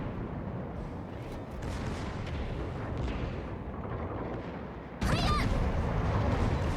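Naval gunfire from the battlecruiser Derflinger and the battleship Congo in World of Warships, with a low continuous rumble of distant cannon booms, then a sharper, louder blast near the end.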